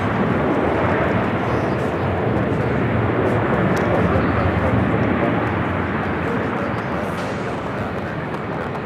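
A Boeing 747 airliner arriving at LAX gives a steady, broad roar that fills the whole stretch without letup, with a voice talking over it.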